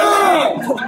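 Crowd at an esports event for Dota 2 cheering and whooping in a loud, continuous roar, with shouts rising out of the noise over a brief moment.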